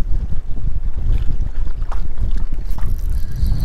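Strong wind gusts batter a high mountain lake while fishing from a boat, a loud, continuous buffeting rumble on the microphone with choppy water slaps beneath, no voices.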